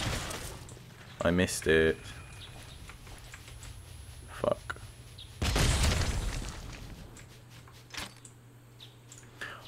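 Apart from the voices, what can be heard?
grenade launcher firing and explosion in video game CryoFall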